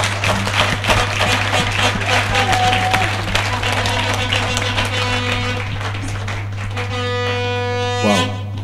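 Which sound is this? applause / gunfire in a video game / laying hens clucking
applause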